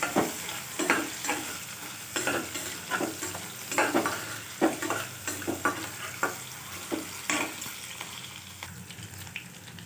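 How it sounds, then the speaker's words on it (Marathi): Garlic and onion sautéing in a hot pan for a dry mixed vegetable dish, with a steady sizzle and repeated scraping stirs of a spoon at an uneven rhythm, close and fairly loud, no talking. "आणि यामध्ये घालायचं आहे लसूण कांदा आणि छानपैकी परतवून घ्यायचं आहे"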